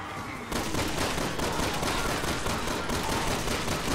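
Dense, rapid gunfire in Resident Evil 6 erupts after a brief pause, a loud continuous fusillade of overlapping shots that lasts several seconds without talk.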